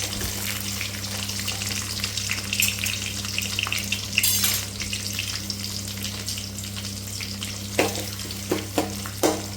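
Chillies and onions fry in hot oil for Rayalaseema borugula uggani, a constant loud sizzle over a low steady hum, with a few sharp spoon scrapes toward the end.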